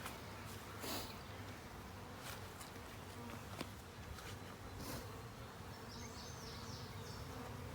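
Package honey bees buzz steadily in a hive box, a dense continuous drone with individual bees flying close past now and then, alone with no talking.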